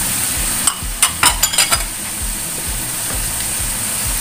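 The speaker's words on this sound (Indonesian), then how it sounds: "Kemudian masukkan wortel dan juga kentangnya." Carrots and potatoes tumble into a hot pan for Indonesian chicken semur, giving a quick cluster of clattering, sizzling bursts near the start, then a steady background frying hiss.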